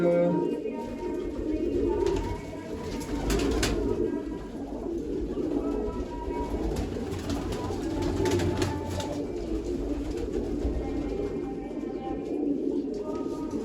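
A flock of pet pigeons, some with red tails, coos steadily and continuously throughout.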